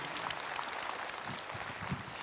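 Audience applause for actor Kevin McNally at a fan convention panel, a dense, steady patter of clapping held at moderate level through the whole stretch.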